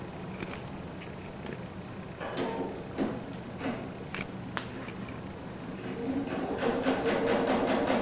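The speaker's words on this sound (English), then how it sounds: "we're going to go ahead and do our stitch down one side." A home sewing machine, a Topaz 20, runs a line of stitching down one side of a fabric sampler, a steady mechanical whir with faint ticking that grows slightly louder near the end, close by with no talk.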